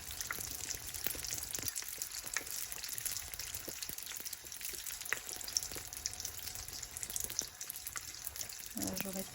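Brick pastries frying in oil over lowered gas heat, a continuous soft sizzling hiss with scattered small pops and crackles, steady and moderately quiet throughout with no talking.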